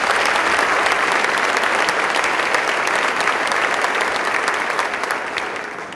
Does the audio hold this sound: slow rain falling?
no